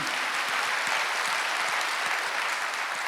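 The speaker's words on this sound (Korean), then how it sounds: "박수하세요" A church congregation at a Wednesday worship service applauds together, dense steady clapping that fills the room for a few seconds without pause.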